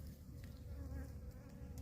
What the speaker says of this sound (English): But the bees are still out